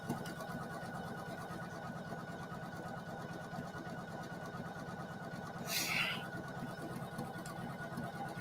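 A Poolin EOC06 single needle embroidery machine runs nonstop with a rapid, even needle rhythm and a low mechanical hum, quiet and close, with one brief brighter swish partway through.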